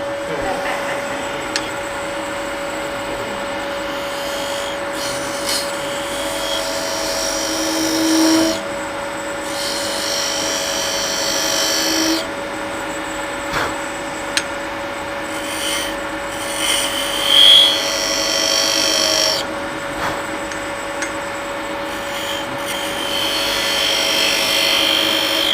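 Steady scraping and rasping of a turning tool cutting spinning wood on a lathe, coming in long passes over a constant motor hum, close and fairly loud.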